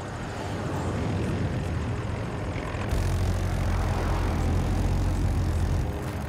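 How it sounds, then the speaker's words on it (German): A jet aircraft in the video game Battlefield 2042 roars overhead as a loud, steady engine rush that swells partway through and holds strong, with no talking. "Jet kommt."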